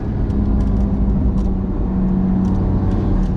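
A SickM2C sports car with a DCT gearbox drives hard on a canyon road, its engine rumbling steadily up close with a few quick rev blips from downshifts throughout.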